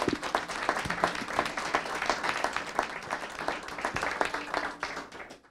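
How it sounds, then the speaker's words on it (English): Sustained audience applause for Dr. Molly Joel Coye at a talk, a dense steady wash of many hands clapping close by, continuing at even strength for several seconds before easing slightly at the end. "if you guys just want to give her a big round of applause"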